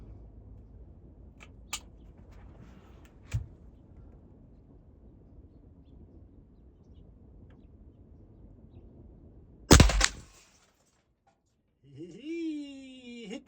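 Crosman 2300S .177 pellet pistol shots ring out as a few sparse, sharp snaps over a quiet background, followed by a much louder crack from the hit and ricochet. A voice follows briefly at the end.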